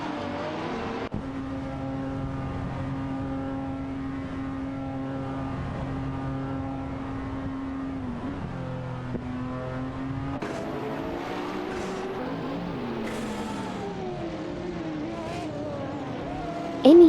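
Engines of a Maserati MC20 and other race cars in a video game race, a sustained droning whine that holds steady, then shifts pitch and rises and falls as cars pass, with brief higher bursts near the end.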